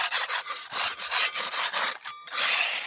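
Hand sanding a wooden board edge with sandpaper, loud close rasping strokes in a steady back-and-forth rhythm, about a dozen quick passes, one brief pause, then a longer stroke.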